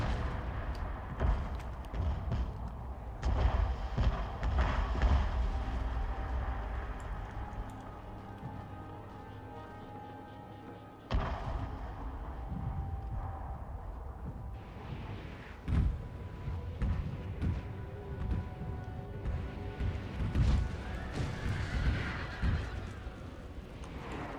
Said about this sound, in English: As well as the naval bombardment.